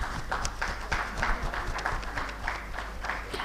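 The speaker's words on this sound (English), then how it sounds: "Can we please have a big round of applause, everyone?" Thin, scattered applause from a small expo audience, a handful of hands clapping unevenly at moderate distance with some crowd murmur underneath.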